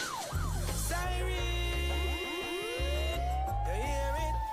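A police siren sound effect wails and sweeps up and down over a reggae beat with a heavy pulsing bass line, loud and continuous throughout.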